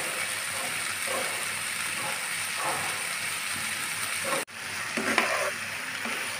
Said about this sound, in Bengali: দিয়ে এই সবজির সাথে সুন্দর করে ভেজে নেব। একটু সময় নিয়ে ভাজবো বন্ধুরা।